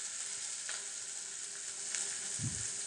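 A spice mixture sizzles steadily in a hot pan with dried red chillies while making pepper rasam, a continuous close frying hiss with a soft stir or clink near the end.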